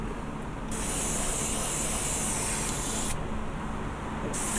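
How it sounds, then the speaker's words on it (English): Black car spray paint hissing from an aerosol can onto a vinyl model of Cthulhu, two long loud bursts of spray separated by a short pause. "once it's dry I am then going to use that black car spray paint as well"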